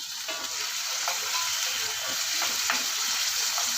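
Three tomatoes sizzle and fry in a pan alongside spinach, a steady close crackling hiss with occasional stirring scrapes and no talking.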